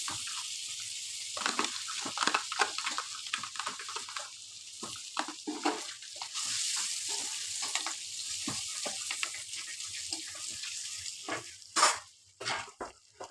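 Butter heats in a kadai (wok) for chicken tikka butter masala, giving a steady soft sizzle and crackle with intermittent clinks and scrapes from the pan, close and fairly quiet.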